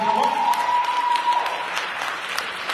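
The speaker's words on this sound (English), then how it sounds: "Can we clap our hands for that?" A church congregation at a Sunday morning worship service breaks into steady applause, a dense wash of clapping from many hands in a room, alone without talk.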